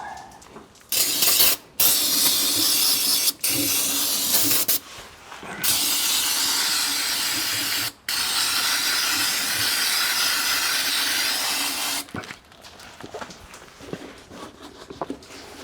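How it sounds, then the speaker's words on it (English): Aerosol brake cleaner hisses loudly in several long bursts with short pauses between, close up on a Dodge Ram 1500 rear differential, with no one speaking. "now we can spray it with our brake cleaner"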